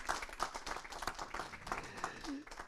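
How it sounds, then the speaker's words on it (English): Applause from the audience at the closing keynote of an Agile Day conference, with distinct, uneven claps over a thinner crowd, mixed with voices and movement. "Et on peut les applaudir aussi"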